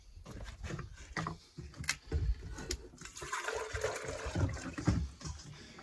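Water is poured into a container to mix lime mortar while building a porch on a French farmhouse, a close splashing, gurgling pour with some handling knocks and no speech.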